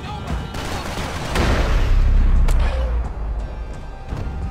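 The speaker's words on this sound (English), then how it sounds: "Gunfire over Hoboken" Gunfire in the Max Payne 3 video game, a string of sharp shots and heavy booms with a rumbling swell in the middle, loud and close, over a faint background voice.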